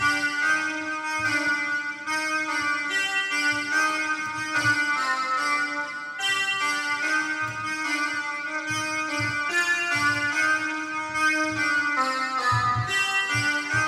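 Synth keys melody played from the Umbra VST using the U Key 03 preset, a steady bright tonal line with repeated note attacks and rich overtones, loud and alone with no talking.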